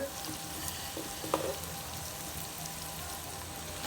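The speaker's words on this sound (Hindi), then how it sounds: "मसाले की आपको आवाज़ भी आ रही होगी।" Steady sizzling of masala spices frying in a pan for aloo masala gravy, a continuous crackling hiss with a few small pops, no talking.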